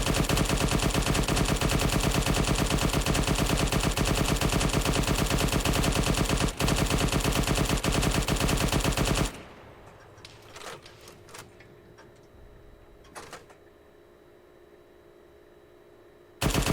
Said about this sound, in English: I don't think that I've taken it out enough, so we'll keep firing.